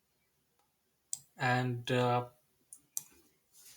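Mouse clicks while working in SolidWorks software: a few sharp, close clicks spread over several seconds, one of them beside a short spoken word.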